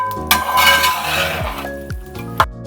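A utensil clinks against a metal pot while masala is stirred into a Thrissur-style kolli chicken curry. There are a few sharp scraping taps close by over a quiet background, with music faintly present.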